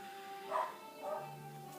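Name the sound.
dogs barking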